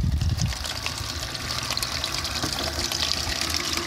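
Water pours steadily into a float box in a barn, a continuous close trickle and splash that carries on alone without talk.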